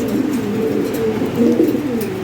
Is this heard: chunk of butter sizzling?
no